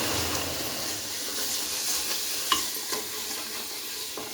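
Pav bhaji masala stirred and sizzling in a home pan, a steady close frying hiss with soft scraping stir strokes and a couple of sharp clinks, no voices.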